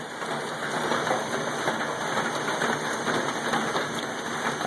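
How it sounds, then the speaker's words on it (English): Heavy rain pours down steadily and loudly, a dense unbroken hiss of drops striking surfaces, with no talking. "of raining like hell here."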